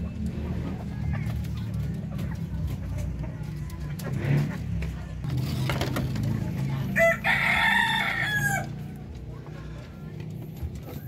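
Native Darag chickens on a small farm, with a rooster crowing clearly in the middle of the clip over steady clucking and background noise, while a person talks throughout.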